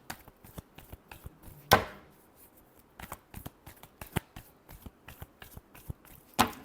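Tarot cards being shuffled by hand, a soft papery riffle of quick flicks and taps close by, broken by a few sharper slaps as the deck is squared, with no talking.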